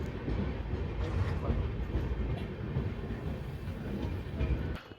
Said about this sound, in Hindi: हमारी ट्रेन अभी यहाँ पे आके रुकी है।